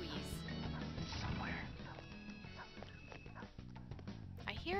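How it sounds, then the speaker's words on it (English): Dog barking in Persona 5 Royal, muffled as if behind a wall, a few barks mixed into dense game music and effects at moderate level. "I hear a dog. It's probably on the other side of the wall"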